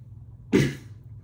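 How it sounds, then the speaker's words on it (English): A single short, sharp cough, close and fairly loud, against a quiet background hum. "Sorry for the coughing."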